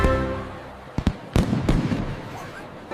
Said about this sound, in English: Fireworks explode in heart shapes in the night sky.